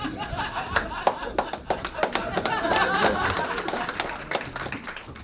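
An audience at a comedy roast claps in sharp, uneven bursts, with scattered laughter and chuckles mixed in, fairly close and lively.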